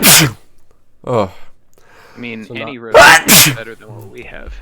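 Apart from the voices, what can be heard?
sneeze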